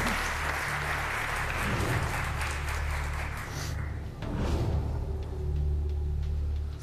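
A studio audience on a pantomime game show applauds in a continuous, moderately loud patter of clapping over a low hum. The clapping thins briefly near the middle before picking up again.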